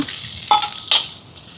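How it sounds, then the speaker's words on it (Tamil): Small onions and dried chillies sizzle and fry in a pan, a steady soft hiss punctuated by two brief stirring scrapes, close and moderately quiet. "இப்போ பாருங்க வெங்காயம் பாதாங்குது"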